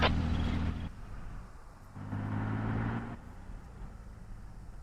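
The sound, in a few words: logistics truck engine in video game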